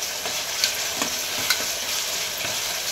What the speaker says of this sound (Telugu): అల్లం వెల్లుల్లి పేస్ట్ వేగి నూనె అనేది పైకి తేలుతుంది.